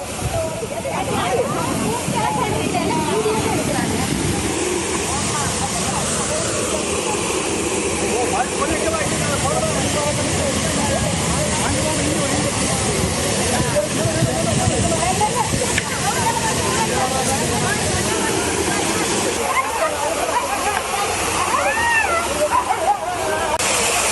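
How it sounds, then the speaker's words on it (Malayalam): Water sprays with force from a burst drinking water pipe during trial pumping from the Bhavani river in Attappadi, Palakkad, a steady loud hissing gush running throughout under a voice. "ഏതാണ്ട് അമ്യൂസ്മെന്റ് പാർക്കിലൊക്കെ വെള്ളം ചീറ്റുന്നത് പോലെയാണ്"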